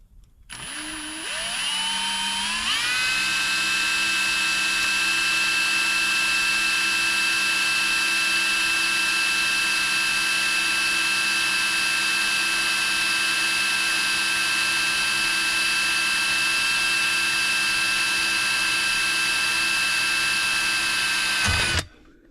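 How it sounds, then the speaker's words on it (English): A small drill spins up and bores a hole in a model Garratt locomotive part, a steady high whine held for about twenty seconds before stopping abruptly, close and alone. "And I can very carefully drill that hole."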